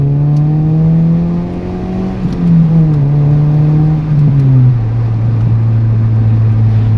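Loud, droning Toyota Yaris engine noise fills the cabin through an open window, its pitch rising, dipping and settling as the car drives along.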